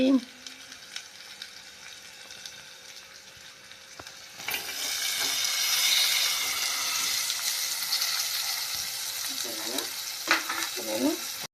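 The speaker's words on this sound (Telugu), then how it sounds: "ఇప్పుడు ఈ బోడగాకరకాయలు లేదా ఆకాకరకాయలు కూడా అంటారు ఇప్పుడైతే వేస్తున్నాను చూడండి" Spiny gourd pieces drop into hot oil in a pan and sizzle loudly and steadily, with occasional stirring clinks and a faint voice speaking now and then.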